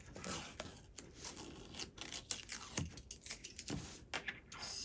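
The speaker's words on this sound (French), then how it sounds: "Je vais venir enlever mon scotch." Adhesive tape is peeled off aluminium foil covering during aircraft covering work with Oratex fabric, giving soft tearing and rubbing crackles with a few sharper rips, faint and close, with no talking.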